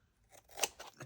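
Scissors snip through a paper and fabric junk journal cover, a quick close cut with one crisp central snap and lighter blade clicks around it, quiet and with no talking.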